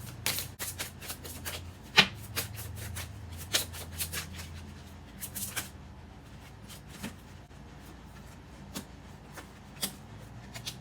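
Oracle cards shuffled by hand, faint crisp riffles and taps in an irregular scatter, with a sharper snap near the start, heard alone in a quiet room.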